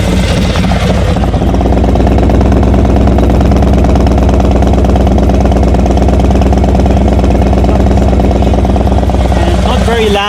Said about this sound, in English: It's quite deep and not very loud on the long ride, so I really enjoy the sound of this exhaust.